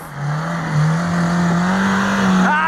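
A car engine revs loudly and close, a sustained droning roar that climbs in pitch as it accelerates, holding high before a final sharp rise.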